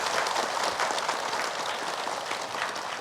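Applause from a large audience at an Indonesian religious gathering, a dense steady wash of clapping for about three seconds that fades slightly toward the end.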